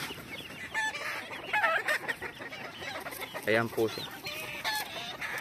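Blue face hatch gamefowl chickens cluck and call in short bursts at close range, with someone speaking softly among them.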